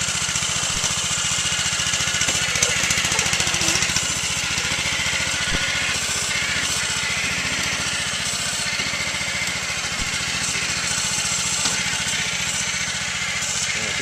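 A rice planting machine engine runs steadily with a constant, rapid mechanical drone and rattle, fairly loud and unbroken for the whole stretch, heard outdoors in a paddy field with no speech.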